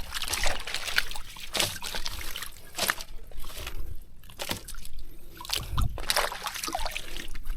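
Water drains out of a fish pond holding tilapia, with soft trickling broken by intermittent sloshes and splashes at moderate, close range.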